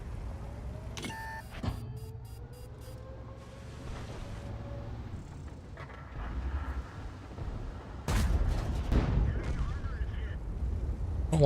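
Tank cannon fire from an AMX M4 51 in the video game World of Tanks, with engine rumble, beeps and a sharp shot followed by heavier blasts toward the end, with speech faintly present.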